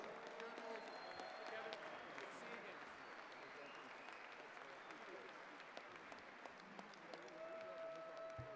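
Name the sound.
audience applause at awards dinner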